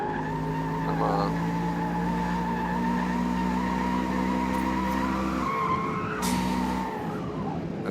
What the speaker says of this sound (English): The tire screech is ridiculous.